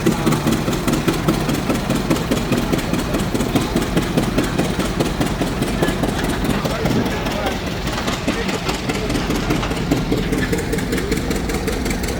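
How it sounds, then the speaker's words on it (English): A Twin City antique tractor idles along in a parade at a farm show in Wolford, North Dakota, a steady, loud engine drone lasting throughout with a busy outdoor background. "Twin City, owned by the museum and driven today by Jackson Saws."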